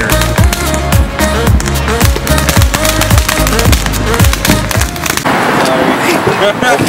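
Consumer fireworks bought in California for a 4th of July celebration crackle and pop in rapid, loud bursts, a dense rhythmic string of bangs that ends in a sizzling fizz.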